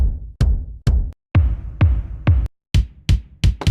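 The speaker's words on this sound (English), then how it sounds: "Dry kick." A dry kick drum preset fires a string of short, punchy thumps at an uneven rhythm, about a dozen hits with brief gaps between groups, close and clear with no talking.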